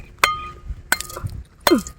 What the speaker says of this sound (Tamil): சம்மருக்கு ஏற்ற சூப்பர் ஐஸ் கட்டி பாருங்க